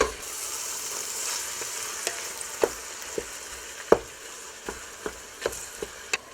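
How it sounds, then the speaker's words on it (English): Ground bison meat frying in a pan gives a steady crackling sizzle, punctuated by a series of soft scraping and tapping stir strokes at irregular intervals, close and without speech. "So I'm going to cook this up, and you don't have to cook it all the way through."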